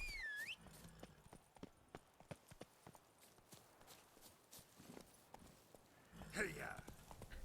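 A horse's hooves clip-clop at a steady walking pace in the Witcher 3 video game, with evenly spaced sharp, close knocks. A brief burst of other game sound comes in near the end.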